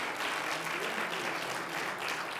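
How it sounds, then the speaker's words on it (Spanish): Steady applause from a church congregation fills the space, a dense even patter of many hands clapping throughout with a faint voice or two underneath. "Dale el aplauso al Señor"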